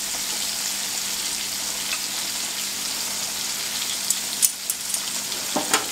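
Chipotle buffalo chicken bites fry in a pan with a steady, close sizzle that stays even throughout. A few sharper pops and crackles come through near the end.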